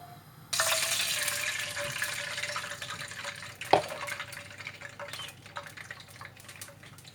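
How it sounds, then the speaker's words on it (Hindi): Water is poured from a tap or jug into a pan to make sugar syrup for zarda, a steady close splashing stream that starts abruptly, runs for a few seconds, then tapers into drips and clinks. "तो अब इसमें वाटर डालेंगे, उसके बाद ये शुगर चाशनी बनानी है।"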